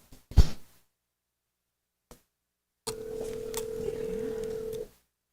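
A brief clatter, then silence, followed by a faint, steady electronic telephone ringing tone, very low, lasting about two seconds before cutting off, during a live auction.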